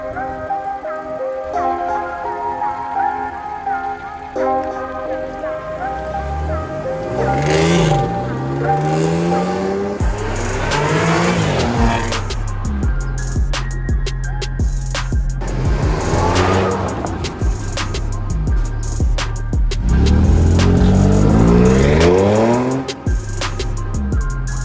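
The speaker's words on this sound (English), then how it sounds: "Now we just need to take it for a test drive, make sure everything's fine and it shifts good." A rebuilt, formerly wrecked Audi S4 on a test drive: repeated loud revving and accelerating sweeps through the gears, each pull climbing and dropping, heard up close with background music.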